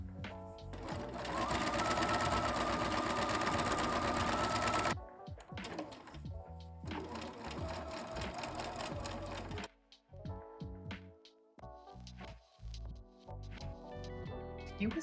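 A domestic sewing machine stitches a garment seam in long, steady bursts of rapid mechanical chatter, loud and close, stopping and restarting several times with brief pauses between runs.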